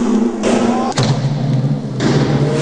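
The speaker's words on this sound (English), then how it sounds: "Look at how they fire the projectile with ease." An isobutyl propulsion cannon, working on the internal combustion principle and shown at a science expo, fires a projectile with a dull, heavy thump, with people audibly talking nearby.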